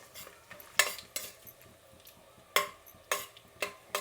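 Cumin seeds and whole spices fry in hot oil for jeera rice while a metal spoon stirs, sharp clinking scrapes against the pan at irregular intervals over a faint, low sizzle.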